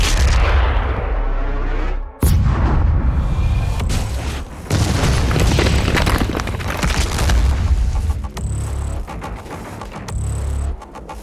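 Heavy weapon fire in DOOM: The Dark Ages, loud booming blasts with a sharp cutoff and several rumbling explosive bursts in succession, each ending abruptly, with no voices.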